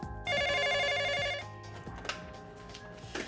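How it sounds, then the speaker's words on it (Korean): A telephone bell at a motel front desk rings in one loud, rapid trilling burst lasting about a second, then cuts off, leaving quiet room noise and a few soft clicks. "모텔 카운터로 걸려온 한 통의 전화."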